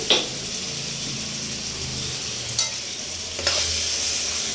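Pork and broiler chicken frying in a pan with chilli powder, a loud, steady sizzle with a few brief scraping stirs of a utensil against the metal.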